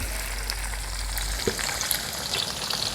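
Sliced onions frying in leftover chicken-frying oil, giving a steady close sizzle with crackling throughout and a brief louder burst as more goes in partway.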